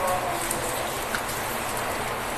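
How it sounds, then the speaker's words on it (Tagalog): Heavy rain pours steadily on surfaces during a flood, a dense, even hiss that holds for the whole stretch with faint distant noise beneath. "Lakas ng ulan."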